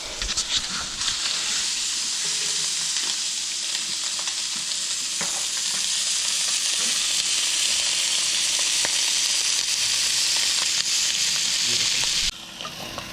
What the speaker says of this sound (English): throw them butter side down on this skillet and see how the sear comes out like that